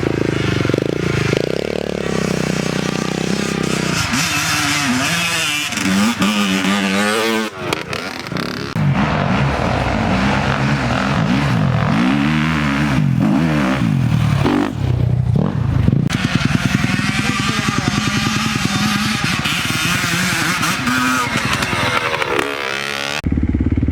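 A dirt bike engine revs hard and almost without pause while riding off-road, the note rising and falling as the throttle changes, close and loud, with clattering and scraping over rough ground and the odd brief dip.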